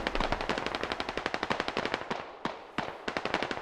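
Sustained automatic gunfire in the military shooter game Squad as Russian troops are shot from behind: loud, rapid, evenly spaced bursts with a short pause near the end, no voices.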